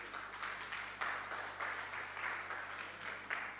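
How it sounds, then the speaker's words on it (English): An audience at a public engagement and culture celebration in Jamaica applauds a speaker, steady moderate clapping from a room of people, fairly quiet and continuous with no talk over it. "let's give a hand of applause for Mr. Tony Kelly."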